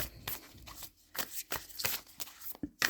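A deck of cards is shuffled at close range during a reading, heard as several quick riffling bursts separated by brief pauses, fairly soft with no talking over it.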